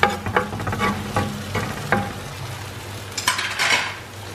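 Minced meat (keema) is tipped onto a hot tawa griddle and spread out, with metal spatula scrapes, clatters and clinks over a constant sizzle, close and fairly loud, with no talking.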